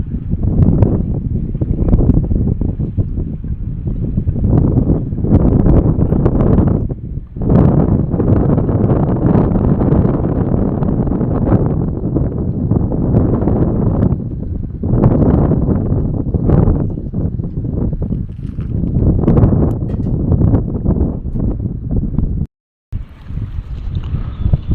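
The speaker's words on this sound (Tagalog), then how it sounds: "Ang lakas ng hangin" Strong wind at sea buffets a small boat stranded with its engine off, a loud roaring gusty rush blasting the microphone almost without pause, with one brief dropout near the end.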